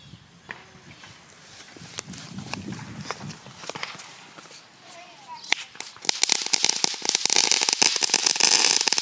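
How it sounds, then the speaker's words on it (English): Six crackle ball fireworks set off together in a small campfire-style pile at a Fourth of July gathering, breaking into a dense, loud, continuous crackling and popping that builds over the last few seconds after quieter scattered pops and footsteps. "we got a campfire of 6 crackle balls"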